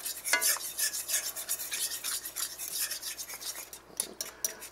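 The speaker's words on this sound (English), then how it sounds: "Stir that up." Homemade gravy seasoned with pepper is stirred in a pan, a close, continuous rasping scrape of the utensil against the pan bottom in quick repeated strokes, with no voices.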